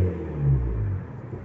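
An Abarth 595's engine runs in sport mode, a low steady rumble with a slight swell of revs midway before settling back, heard close and alone with no talk.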